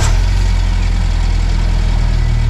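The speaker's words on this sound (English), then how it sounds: "Want to crank it one more time and start the engine." Engine of a 1997 Jeep Wrangler TJ running after a new ignition switch was fitted, a steady loud idle with constant low rumble and no pauses, heard close up without talk.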